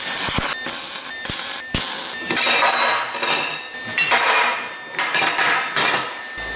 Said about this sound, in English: More welding off camera.